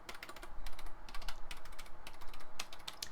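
Keys on a Wolf Claw Devour PC gaming keypad are pressed in quick, irregular bursts of crisp clicks, close and clear, with no voices present.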